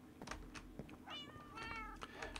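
A cat meows a couple of times in the Minecraft modpack FTB Beyond, each meow clear and drawn out over light background game noise.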